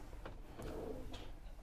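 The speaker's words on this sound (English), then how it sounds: "You've got two drawers there. Pull that one out, there you go" A lockable drawer in a campervan kitchen unit, beneath the burner hob, is pulled open at a van show. It gives a few short sliding rattles and soft knocks, at moderate level over steady background noise.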